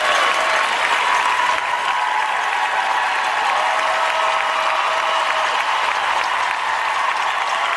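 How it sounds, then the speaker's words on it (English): A large arena crowd at the U.S. figure skating Nationals applauds skater Jeremy Abbott with a standing ovation, a dense, steady roar of clapping and cheering held at full strength throughout. "On the ice for the final time at the U.S. Nationals, Jeremy Abbott with the crowd standing in appreciation."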